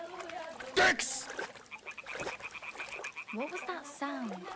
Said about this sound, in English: Jesus Christ, frogs.